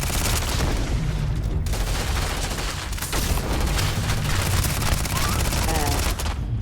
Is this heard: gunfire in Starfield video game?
yes